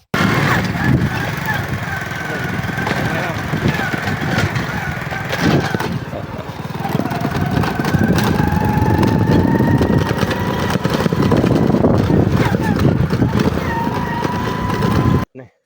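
A motorcycle engine runs steadily in a village setting, a continuous near rumble with rising and falling tonal whine as it revs, lasting nearly the whole stretch and cutting off abruptly at the end.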